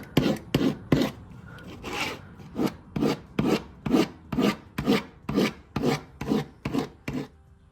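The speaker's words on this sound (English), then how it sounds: "Next, score it with the Stanley knife in a crisscross pattern." Stanley knife scoring an MDF board in a crisscross pattern, a rapid series of about a dozen sharp scraping strokes at a steady rhythm, close and alone.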